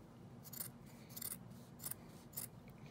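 Scissors cutting out a fabric sewing piece, four evenly spaced crisp snips close by, quiet and alone with no talking.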